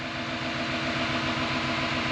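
A truck's diesel engine idles steadily and close after an injector pigtail repair, a dense, even rumble with a faint regular knock, no voices.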